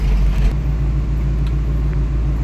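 A 1976 GMC Jimmy with four-wheel drive engaged, its engine idling in a loud, steady low rumble while gears are shifted, with no talk.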